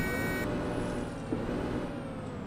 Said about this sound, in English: I do like the sound of the brakes.